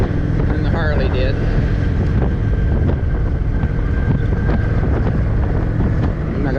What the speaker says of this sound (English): it is super windy and blowing my bike around